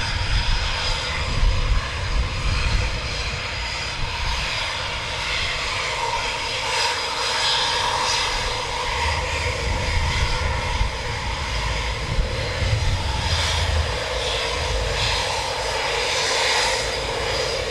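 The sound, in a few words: military aircraft departing RAF Coningsby, NATO exercise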